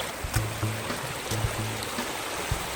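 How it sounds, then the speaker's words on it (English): Floodwater running off a hillside toward a house, a steady broadband rush like a stream with small splashes and low rumbling pulses, fairly close and continuous, no voices. "Here's the water coming off the hill"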